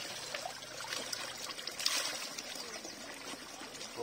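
Cold water flows steadily through a hillside village in Murree, a faint, continuous trickle and babble heard alone without talk.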